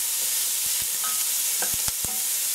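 Celery, about half a large white onion and a small green pepper cook together in a pan. A steady, fairly loud sizzle carries sparse clicks as a utensil stirs the vegetables.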